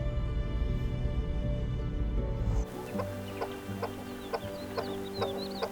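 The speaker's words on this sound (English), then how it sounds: "A family of chukar partridges. Several tiny chicks following their parents through the dry scrub." Chukar partridges, a family with several tiny chicks, clucking in dry mountain scrub near Leh, Ladakh; soft, short calls repeat at a steady pace over a low outdoor hum, fairly faint and not too close.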